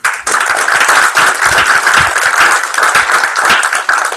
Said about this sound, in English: So round of applause for those two.